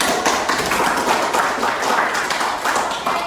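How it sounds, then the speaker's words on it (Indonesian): An audience at a university lecture session for primary teacher education claps together, a dense, even patter of hands that holds steady and close for a few seconds. "tepuk tangannya mana?"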